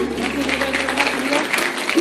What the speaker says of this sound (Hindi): बहुत बहुत तालियां हो जाए गुरु जी के लिए